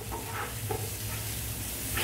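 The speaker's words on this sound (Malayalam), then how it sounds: "ഇതിൻ്റെ പച്ചമണം മാറുന്നത് വരെ ഒന്ന് ഇളക്കി കൊടുക്കുക." Garam masala and turmeric stirred in a frying pan for a chicken biryani masala, giving a steady close sizzle with a few soft spatula scrapes, no voices.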